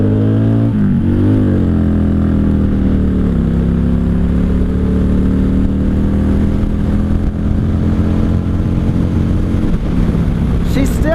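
A 1995 Honda Shadow VLX 600 (VT600CD) V-twin motorcycle rides steadily in fourth gear, its engine droning loud and close with rising pitch as it accelerates, mixed with rushing wind.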